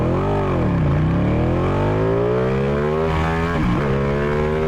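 A Ducati 899 Panigale sport motorcycle accelerates hard, its engine climbing in pitch through several gear changes with brief dips between shifts, loud and close throughout.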